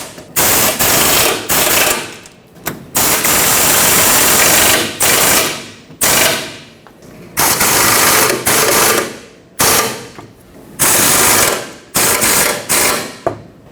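A power tool tightens the front bumper bracket bolts on a 2011-2016 Ford F-350 in repeated loud, close, rattling bursts, each lasting about a second with brief pauses between.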